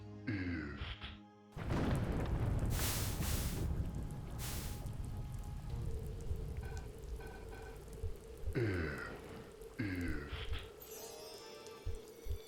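A conjured rain spell in the video game Hand of Doom pours as a dense, steady hiss with sharp crashing bursts, then gives way to brief tonal game effects and a voice speaking over a lingering low hum.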